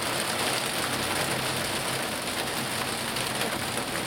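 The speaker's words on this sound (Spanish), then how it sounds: "¿Cómo llueve?" Heavy rain pours steadily and loudly during a thunderstorm with hail in Linares, a dense, unbroken roar of water close by with no voices.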